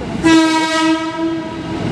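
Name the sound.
JR 205 electric commuter train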